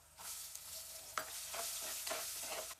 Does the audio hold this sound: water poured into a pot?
no